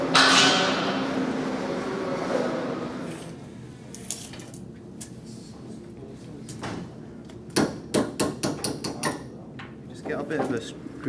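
Hammer blows driving a bolt into a student-built wind turbine, a cluster of sharp metallic knocks in quick succession after a stretch of handling and clatter, with people talking nearby.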